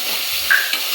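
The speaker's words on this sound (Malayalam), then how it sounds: "ഇനി നമുക്ക് വെണ്ടയ്ക്ക ഒന്ന് വാട്ടിയെടുക്കാം" Okra sautés in a pan for a Kerala-style curry, giving a soft, even sizzle with a faint brief clink partway through.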